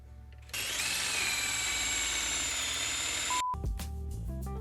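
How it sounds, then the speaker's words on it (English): A router table rounding over wood edges whines loudly and steadily for a few seconds, then cuts off abruptly, followed by a brief tone and clattering. "Here I'm using a router table to round over the edges"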